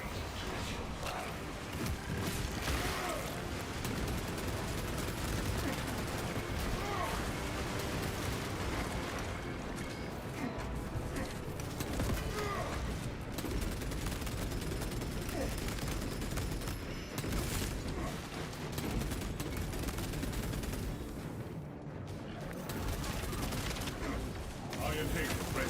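Dense, continuous weapons fire and explosions rumble through a Space Marine 2 battle, loud and unbroken throughout, with a voice speaking over the din.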